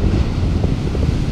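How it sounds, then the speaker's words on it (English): Gusty wind buffeting the microphone at a lakeside tench and perch fishing spot, a steady loud low roar with no voices, filling the whole short stretch. "Now the wind's eased off, that's gonna continue to ease off"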